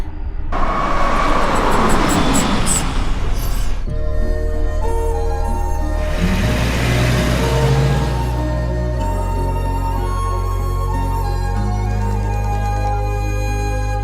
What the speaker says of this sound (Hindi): अभी एक गाड़ी निकली है